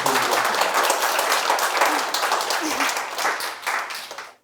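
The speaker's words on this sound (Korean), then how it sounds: "뜨거운 박수 부탁드립니다." Loud, dense applause from a crowd fills the clip, sustained throughout before cutting off abruptly at the end.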